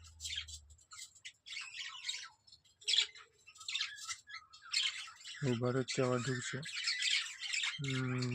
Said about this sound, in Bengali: বাড়ির ভিতরে পাখিরা যুদ্ধ করছে যারা দুটো পাখি ঢুকে আছে